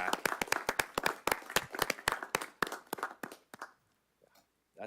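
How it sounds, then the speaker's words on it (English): A small group claps at a parks and recreation commission meeting, distinct hand claps close by that thin out and stop after about three and a half seconds. "just a quick round of applause for Sarah and everything she does for YAC"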